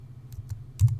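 Typing LINEST on a computer keyboard: a few quiet, sparse key clicks, with a couple of soft taps and a slightly louder pair near the end, over a faint low hum.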